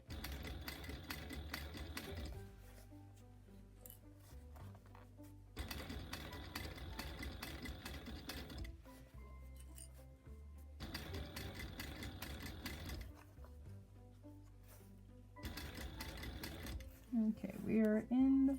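A sewing machine stitches small curves on a Valentine's heart project in four separate runs of rapid stitching, broken by quiet pauses, with a person talking at times.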